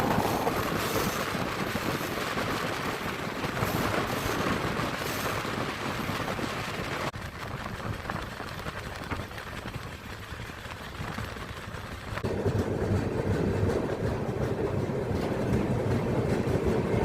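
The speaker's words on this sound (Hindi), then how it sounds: "महसाना जंक्शन की साइड से आ रही है जोधपुर साबरमती वंदे भारत एक्सप्रेस। तो मैं आपको उस ट्रेन का क्रॉसिंग दिखाता हूँ।" Jodhpur–Sabarmati Vande Bharat Express rushing past from an adjacent track, a loud continuous roar of wheels and wind that shifts in tone partway through and stays dense to the end.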